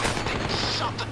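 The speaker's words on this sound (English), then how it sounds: "Oh, they shot the driver." Rapid gunfire bursts from the video game Payday 2, loud and continuous with dense overlapping shots, a steady low hum beneath and faint voices mixed in.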